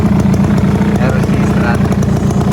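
An old Suzuki Bravo motorcycle engine idles as it warms up, a steady rough rumble running close and loud throughout with no break.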